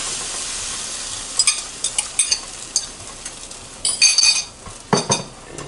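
Eggs with onions and peppers in a warming pan: a faint steady sizzle beneath a series of close metallic clinks and scrapes of a utensil against the pan, irregular and sharp.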